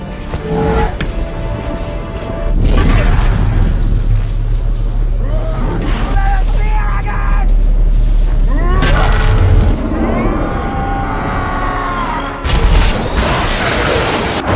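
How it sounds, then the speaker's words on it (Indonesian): A deep, rumbling blast with heavy low-end booms and crackling debris, layered under dramatic music and effects, swelling and surging throughout, as the Bifrost is destroyed in a Marvel film. "Saat terjadi ledakan"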